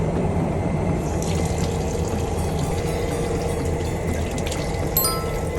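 Water runs steadily from a foot-pedal hand-washing tap in a Korean KTX train bathroom, a continuous close splashing stream with no talk over it.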